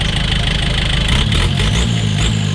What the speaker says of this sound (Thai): เร่งเครื่องหน่อยลูก